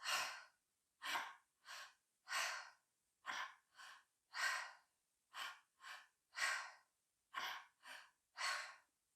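Deep breathwork breathing: a steady series of about a dozen forceful, rhythmic inhales and exhales, close and clear, with brief silences between each breath.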